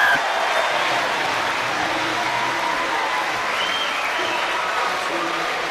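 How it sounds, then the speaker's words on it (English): Rugby league crowd at a 2007 Harlequins versus Leeds Rhinos match applauding a try, a steady wash of clapping from many spectators filling the whole stretch with no break. "it gets the applause from the faithful Danny Orr."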